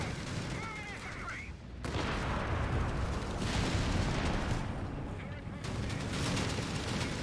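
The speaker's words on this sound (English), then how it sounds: "He's dropping arty on the M8s." Artillery barrage in Company of Heroes 3 landing on M8 armored cars, a dense rumbling stream of booms and crackling impacts that runs almost continuously, with speech in the background.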